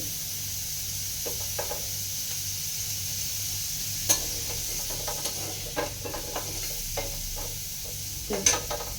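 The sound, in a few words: frying turmeric, tomato and coriander leaves in a pan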